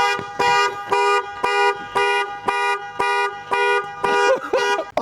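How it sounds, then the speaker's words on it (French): A Dodge Durango's car alarm, set off by the key fob panic button, honks loudly and close in a steady series of about ten evenly spaced blasts, with a voice breaking in during the final honks. "Et maintenant, on va cliquer sur le bouton panique."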